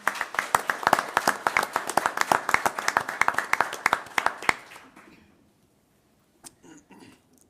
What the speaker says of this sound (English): I just want to give a round of applause for all of those people that we were honoring